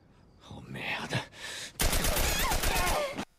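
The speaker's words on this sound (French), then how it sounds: "Pourtant, Sarah prend la balle et Joël n'en prend aucune" Gunfire in The Last of Us, a loud dense burst of shots lasting over a second, after quieter murmuring sounds at the start.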